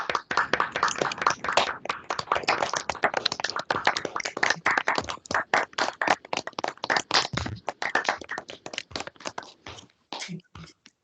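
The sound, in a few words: audience applause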